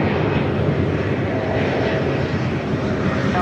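A Delta heavy jet at LAX waiting on the runway before takeoff, its engines producing a steady, loud broadband roar that holds constant with no voices heard.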